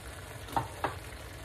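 Tomatoes frying in a pan for a lasagne sauce give a soft, steady sizzle, with two brief stirring scrapes cutting through. It is quiet and close, with no voices.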